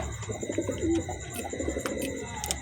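Soft coos from Rampuri pigeons repeat in a low, rolling rhythm, moderately close, with faint background noise.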